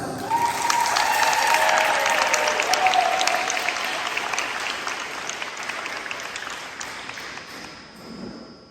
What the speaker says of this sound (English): I'm going to stop right there with one big round of applause for our student athletes